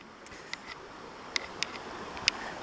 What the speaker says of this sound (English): This is the sound of my babbling brook